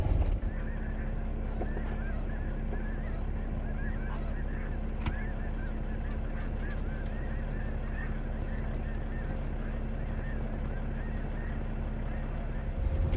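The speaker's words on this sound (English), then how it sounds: "Birds of all types out here" Wild geese honk and call repeatedly across an open outdoor area in western Arizona, with a steady low background rumble and some faint voices mixed in.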